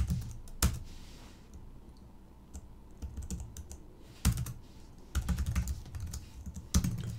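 Someone types a message on a computer keyboard in a text editor, with close, quick bursts of key clicks separated by short pauses.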